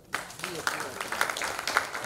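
Applause from the audience at an agro-industry panel session: a dense, steady clatter of clapping that begins abruptly and carries on under a talking voice.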